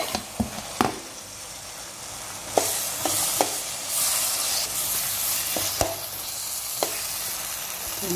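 Green chillies and green peas fry in a pan with a continuous sizzle, broken by sharp, irregular taps and scrapes of a spoon stirring against the pan.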